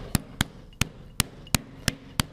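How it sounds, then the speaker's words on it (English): A meat hammer pounds chicken thin on a kitchen board in seven sharp, evenly spaced close thuds within a couple of seconds, with no voices. "since I'm handling the chicken with my right hand, I'm going to pound with my left hand"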